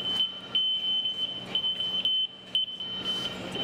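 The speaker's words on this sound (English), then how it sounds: "Smoke alarm." A bakery smoke alarm beeps loud and shrill in a steady repeating pattern, close by, with clattering kitchen noise underneath and no speech.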